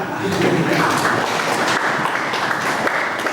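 An audience at a university cyber school launch event applauds, a dense wash of clapping that stays steady and fairly loud for a few seconds, with a voice over it.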